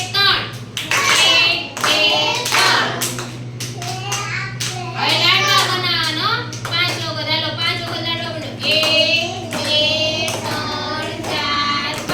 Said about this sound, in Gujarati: બોલું એટલી જ સંખ્યાની તાળી પાડવાની